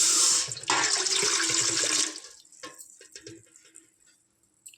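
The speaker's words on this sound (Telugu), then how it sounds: "ఇందులో ఒక పెద్ద గ్లాసు వాటర్ పోసుకుందాం" Water gushes loudly into a pot for about two seconds, then stops, followed by faint drips and small clatters.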